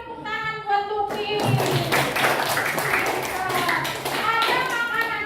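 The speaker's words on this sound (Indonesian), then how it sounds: "Beri tepuk tangan buat Luki." Pupils in a classroom clap for a classmate in a burst of quick, uneven applause that comes in right after a teacher speaks. Children's voices mix into the clapping.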